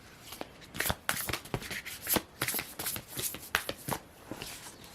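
Tarot cards are shuffled and drawn from a deck, giving a string of close, crisp riffles and swishes in uneven bursts, with short pauses between them.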